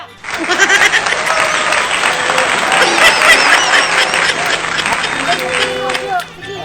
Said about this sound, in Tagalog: Palakpak sad mo dira.